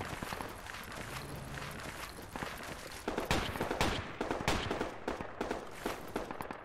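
Rapid gunfire bursts from a video game shootout crackle over a busy, noisy mix, growing louder and denser in the second half with sharp overlapping shots and a few footstep-like thuds.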